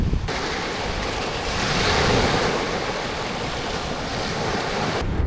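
Sea waves breaking on a Greek beach near a moored yacht, a continuous broadband wash of surf that swells and recedes, with wind buffeting the microphone throughout.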